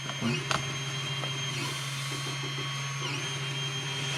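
A 3D printer lays down the first layer of a part, with a skirt printed around it for bed adhesion. Its motors whir and whine steadily up close, with small stepping chirps and a brief knock near the start.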